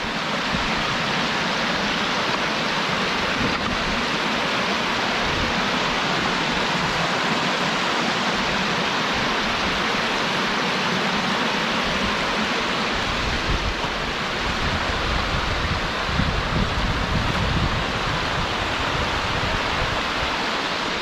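A forest creek swollen by recent rain rushes over rocks, filling the scene with a loud, steady, close roar of churning water, with no voices.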